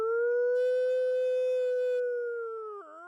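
A man imitates wolves with one long, loud, sustained human howl that holds a steady pitch and then bends downward at the end, alone and close.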